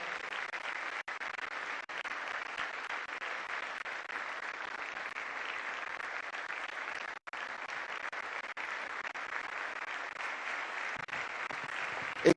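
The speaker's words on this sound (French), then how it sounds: "et nos applaudissements débordants," Long, even wave of audience applause greeting Congo's president Félix Tshisekedi at a formal gathering, many hands clapping steadily for over ten seconds with only tiny lulls.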